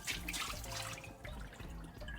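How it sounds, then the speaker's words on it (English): Tap water runs into a cooking pot in a hotel room kitchen, a steady close rushing stream with slight gurgling shifts in pitch as the pot fills. "we're gonna fill up this pot with water."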